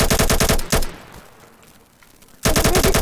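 Rapid automatic gunfire from a Roblox-style video game built with toolbox assets, in two loud sustained bursts separated by a short quiet stretch with a fading tail, no talk.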